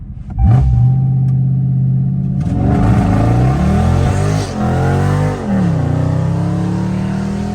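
A Dodge Charger Scat Pack V8 revs hard at full throttle, a loud, close, continuous roar that climbs and dips in pitch through several rises over about seven seconds, with no talk.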